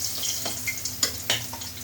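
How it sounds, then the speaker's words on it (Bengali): Fish fry in a pan on a home kitchen stove, the hot oil sizzling steadily up close. Brief crackles and spatters pop out above the hiss. "এই মাছগুলো ভাজা হয়ে গেছে"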